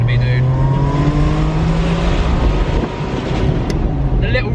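A Ferrari 550 Maranello's V12 engine drones loudly and steadily from close by, with a slight rise in pitch as it is held under revs.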